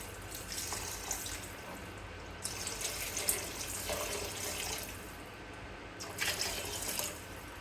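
Water splashes and runs in bursts, pouring into a pan of kechki fish curry a few times with quiet pauses between.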